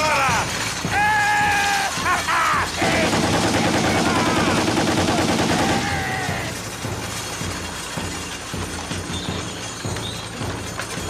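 A machine gun fires from a horse-drawn tachanka cart in a 1918 setting: loud, dense rapid bursts crackle for several seconds, then ease into lower rattling, with voices heard faintly in the mix.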